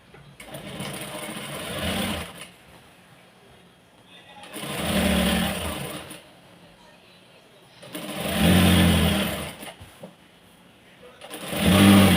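A sewing machine stitches a half-inch folded edge on a saree in four separate bursts of a few seconds each, with quieter pauses between them.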